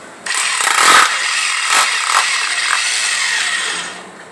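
A power drill fitted with an adapted smooth drill bit, whining loudly from start to stop with brief surges in pitch as it bores, running about four seconds with no speech.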